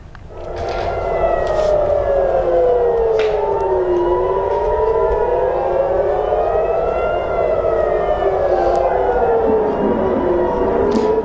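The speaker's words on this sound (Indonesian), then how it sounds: "Sirine peringatan serangan berbunyi di Israel" Air raid warning sirens wail over Tel Aviv during an Iranian missile attack: several overlapping sirens rise and fall in long sweeping cycles, loud and continuous throughout, with no talk over them.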